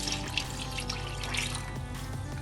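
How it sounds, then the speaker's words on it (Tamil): Coconut milk pours steadily into a cooking pot, a continuous close liquid splashing and trickling with a few small drips, no voices. "அதுக்கப்புறம் மிச்சம் வச்ச அந்த 2 டம்ளர் தேங்காய் பாலையும் இதிலே நம்ம ஊற்றிக்குவோம்."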